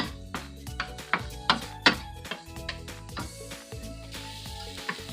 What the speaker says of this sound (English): Now it's time to add our ground beef. Let's mix it together.